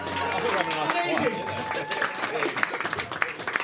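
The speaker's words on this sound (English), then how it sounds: "give yourselves a round of applause" Wedding guests at a reception in Italy clapping and cheering together, a dense burst of applause that thins into scattered claps, with a voice over the crowd.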